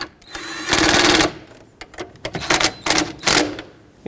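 A ratchet clicks in short rapid bursts while snugging a battery hold-down bolt on a 2012-2020 Nissan Pathfinder during alternator replacement, with several close, crisp ratcheting runs separated by brief pauses.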